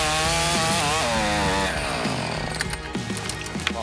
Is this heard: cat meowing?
no